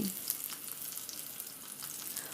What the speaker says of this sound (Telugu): పావు చెంచా ఆవాలు పావు చెంచా జీలకర్ర ఒక ఇంచు అల్లం సన్నటి తరుగు రెండు పచ్చిమిర్చి సన్నటి తరుగు వేసుకుని కొద్దిసేపు ఫ్రై చేసుకోవాలి